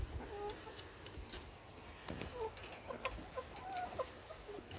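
Meat chickens cluck and call near the coop door in soft, scattered bursts, with light rustling and faint background noise between the calls.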